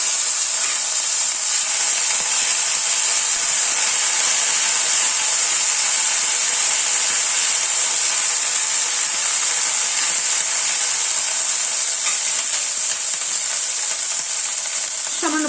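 Ground ginger and green chili paste frying in hot oil, with a loud, steady, close sizzle that runs unbroken throughout.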